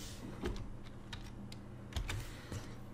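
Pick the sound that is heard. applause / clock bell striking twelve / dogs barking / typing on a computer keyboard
typing on a computer keyboard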